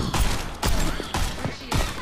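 Video game gunshots from Overwatch 2 ring out in four distinct heavy bursts spaced about half a second apart, each sharp and punchy with a short decaying tail, close and loud.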